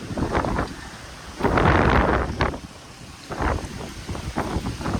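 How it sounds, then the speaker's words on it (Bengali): Strong gusty wind blows outdoors on a Mumbai street, buffeting the microphone with loud, surging rumbles that rise and fall in several waves. "এই জায়গাটাতে এত হাওয়া, মনে ঠেলে ফেলে দেবে।"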